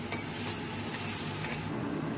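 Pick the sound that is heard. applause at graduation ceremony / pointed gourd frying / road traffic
pointed gourd frying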